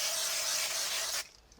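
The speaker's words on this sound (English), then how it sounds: "So I'm going to use a little bit of spray glue just to make it a tiny bit quicker." Spray glue hisses from a can onto craft card in one continuous close burst of about a second, then stops abruptly.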